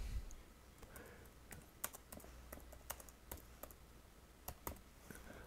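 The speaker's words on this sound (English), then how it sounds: "So we're going to start typing." Soft, irregular keystrokes tap on a computer keyboard at close range. The clicks come in uneven bursts over a quiet, hissy room background with no talking.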